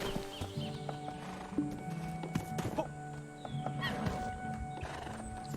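A horse in the Black Desert Online video game neighs and whinnies while its hooves clip-clop, with scattered game sound effects layered around it at close range.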